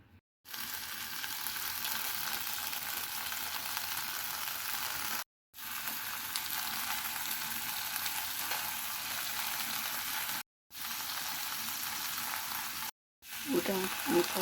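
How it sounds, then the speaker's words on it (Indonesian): Shrimp fry briefly in hot oil, giving a bright, steady sizzle that stays close and fairly loud, broken by a few short silent gaps, with no talking. "Cuci bersih udang, goreng sebentar, kasih merica sama minyak wijen."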